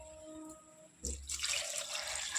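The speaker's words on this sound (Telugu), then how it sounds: "కొంచెం బోటి మునిగే వరకు వాటర్ పోసుకోండి, సరిపోతుంది" Water is poured into a pot of goat tripe (boti) curry, starting as a sudden rushing splash after a quiet moment and continuing as a steady, close stream.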